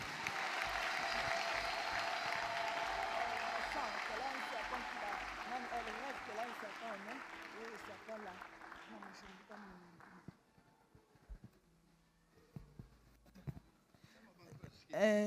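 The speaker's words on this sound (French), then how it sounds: "Applaudis pour toi-même." A congregation claps during a deliverance prayer service, dense applause filling the first half and then fading away, leaving sparse sounds and faint voices afterward.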